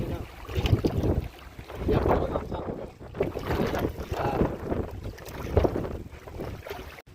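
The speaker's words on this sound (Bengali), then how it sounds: "তো এখন আমরা 4 জন মিলে যাচ্ছি বোট রাইডে" A small passenger boat carrying four people moves along a river, giving a steady rumbling wash of water and engine or hull noise mixed with heavy wind buffeting on the microphone.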